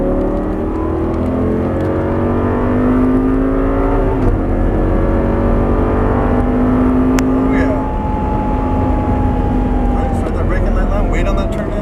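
An Audi R8 on a race track, engine droning loud and close from the cabin and climbing in pitch through repeated throttle pulls, with an instructor's voice talking over it.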